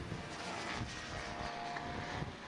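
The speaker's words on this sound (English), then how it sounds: "Some of the fast 650 lightweight bikes cutting through the track." 650 lightweight racing motorcycles passing along a long straightaway at Virginia International Raceway, a steady distant engine drone and whine that holds throughout at moderate level.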